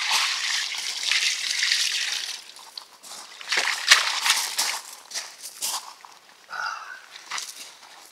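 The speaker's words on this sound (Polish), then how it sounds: "Dobra, już ci daję wodę." Water poured out in gurgling, splashing bursts at a winter carp-fishing camp, near and moderately loud, in uneven surges with brief pauses and no talking.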